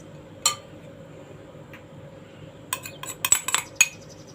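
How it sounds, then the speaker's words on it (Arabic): A metal spoon stirring spices together clinks against a dish in a few light taps, then a quick cluster of sharper scraping clinks near the end, all close over a quiet background. "نقلب التوابل كويس مع بعضيها"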